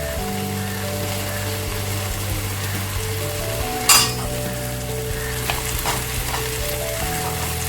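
Food fries in hot oil for spicy kottu mee noodles, a close, steady sizzle running throughout, with one sharp clatter of stirring partway through and a few smaller knocks after it.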